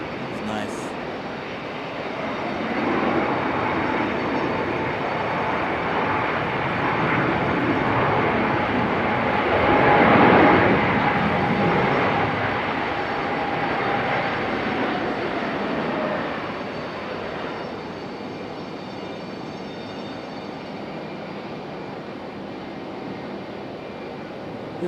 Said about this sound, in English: Definitely a wobbly, squirrely landing for JetBlue there.